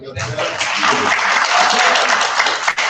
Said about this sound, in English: how about a round of applause for the people that put this together?